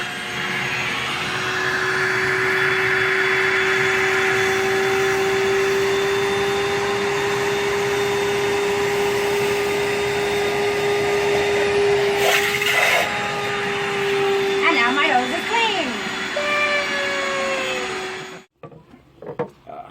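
A loud Rainbow home cleaning system motor whines steadily, with gurgling suction as it sucks up water from a drain partway through, then cuts off abruptly near the end.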